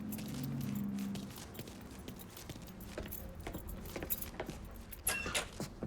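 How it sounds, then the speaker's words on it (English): Truck keys picked up and jangled in the video game Mafia 3, a run of faint metallic clinks and rattles after a low engine hum, quiet and close with no talking. "Lincoln, pick up the keys."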